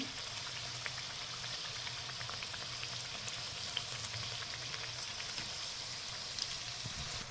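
Elephant foot yam fritters, suran bhaji, deep-frying in oil, a continuous fine crackling sizzle with scattered pops, steady and fairly soft throughout.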